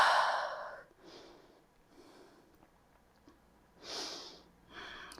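Breath during an intermediate yoga session: a strong exhale at the start, then softer breaths and a second audible exhalation near the end, close and quiet with no talking.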